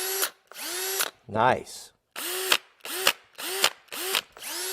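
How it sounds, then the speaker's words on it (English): A Milwaukee cordless drill fires off a run of short whirring bursts with clunky gear rattle as it tightens, loud and close, with a brief spoken word between bursts. "Listen to the Milwaukee. Let's tighten that up so we get the rattle."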